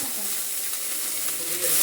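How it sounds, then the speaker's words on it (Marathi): Chopped onion and green chilies frying in a pan on a gas stove make a steady, close sizzle and hiss, with some faint stirring and a brief louder surge at the end. "कांदा परतून घे, मग मी घेते परत."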